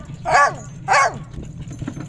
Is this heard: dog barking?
yes